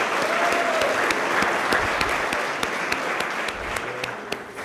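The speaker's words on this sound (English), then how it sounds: "So let's applaud everybody because we all deserve a good," An audience at a college staff awards ceremony claps steadily, a dense, sustained round of applause from a sizable crowd filling the room throughout.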